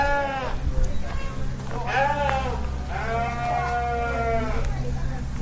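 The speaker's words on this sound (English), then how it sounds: "You can hear some sheep and livestock in the distance." Sheep and other livestock bleating at the Benton County Fair, several drawn-out bleats in close succession over a low steady background hum.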